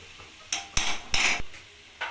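A spoon stirs chopped banana flower with grated coconut and a spoonful of ghee in a pan, four or five distinct scraping clacks of utensil against metal, close and fairly loud, separated by brief pauses.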